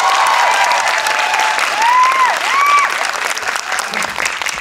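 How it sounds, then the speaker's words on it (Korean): Audience at a film screening and talk event for the Korean film 'Hero' applauding, a loud sustained round of clapping from a crowd with light cheering and a faint tonal whistle over it. "김문정 음악감독님에 대한 박수가 제일 큰 것 같죠?"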